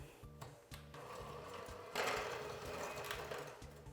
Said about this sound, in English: I'm just gonna be using my same mixer